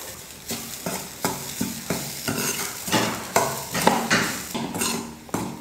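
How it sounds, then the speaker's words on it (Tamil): Ground coconut dry-roasting in a kadai, rhythmic scraping strokes of a spatula against the pan repeating roughly every half second over a faint crackle. "இந்த ஈரத்தன்மை இல்லாமல் நல்லா கடாயில் போட்டு நல்லா வறுத்து எடுத்துக்கலாம்"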